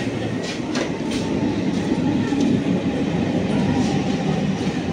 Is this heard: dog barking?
no